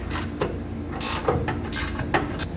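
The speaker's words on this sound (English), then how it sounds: "I'm going to use a 24mm ratcheting wrench, just to run these in a little bit further" A 24mm ratcheting wrench running bolts in during a fifth-wheel trailer hitch underbed install, giving rapid repeated ratchet clicks in short bursts, close and clear, with no talk.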